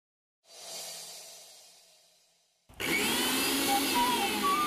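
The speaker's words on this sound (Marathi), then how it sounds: "अगं तुझ्या मिक्सरच्या आवाजाने आनंदी रडायला लागली।" A kitchen mixer grinder in a home: a short whir fades out, then after a brief pause the machine starts again with a loud, steady, high whining roar that runs to the end.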